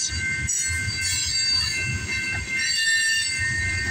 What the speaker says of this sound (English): Crazy J caught this train in Tilbury, Ontario, around 2 o'clock this afternoon